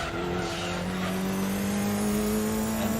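A Mitsubishi 3000 GTO engine in Gran Turismo 2 drones steadily at high revs, a continuous loud motor tone that climbs slowly in pitch over three seconds with no talk.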